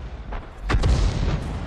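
A tank cannon fires with a heavy boom that rolls into an explosion in a World War II tank video game, the M53/M55 artillery vehicle in play, one loud deep blast lasting about a second with no talk over it.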